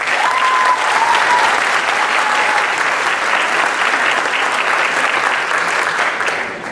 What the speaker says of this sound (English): if we could all give them a warm round of applause